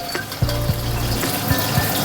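Fish frying in hot oil for a Bengali fish curry: a steady sizzle runs throughout, with occasional clinks of a utensil against the pan, and no talking.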